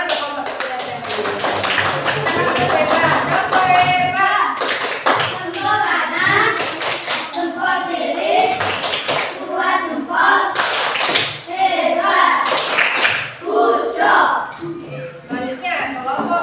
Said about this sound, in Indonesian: Tepuk tangan di kelompok kinestetik.